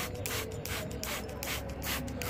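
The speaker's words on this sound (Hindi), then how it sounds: "चलिए स्प्रे डाल देते हैं" Homemade organic neem pesticide sprayed onto a plant: a steady hissing spray with rhythmic pulses from a hand sprayer, close and continuous, with no talking.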